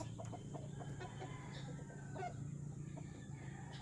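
A rooster clucking and calling faintly on a rural rooftop repair site, soft intermittent notes over a steady low background hum, no talk.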